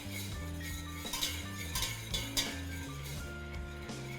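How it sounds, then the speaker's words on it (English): A whisk stirring a butter and flour roux in a pan over medium heat, quick repeated metallic clinks and scrapes in a steady rhythm above a soft background tone. "And I keep on stirring with this whisk."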